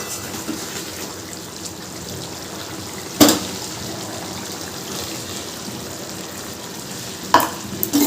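Desi chicken curry simmers and sizzles in a pot as it is stirred, a steady close bubbling hiss broken by two louder spoon-against-pot knocks.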